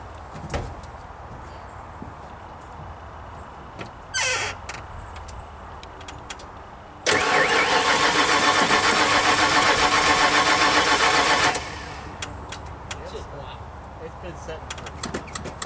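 An old Ford engine starts up midway with a sudden loud burst, then runs roughly for a few seconds before cutting out. Quieter clicks and knocks come before and after, and people talk around it.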